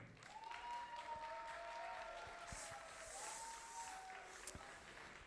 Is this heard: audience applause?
yes